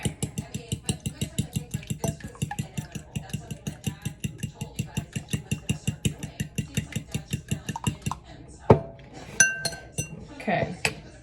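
Ingredients, including eggs, are whisked in a glass bowl, giving fast, regular clinking taps close by that continue for about eight seconds before a few scattered louder clanks, with a voice talking over it.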